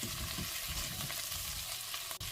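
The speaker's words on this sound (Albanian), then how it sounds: "Fërgojmë vetëm edhe pak, derisa edhe karotat edhe patatet të marrin një ngjyrë të bukur." Potatoes and carrots fry in a pot with a soft, constant sizzle and occasional stirring scrapes, quiet and close, with no voices.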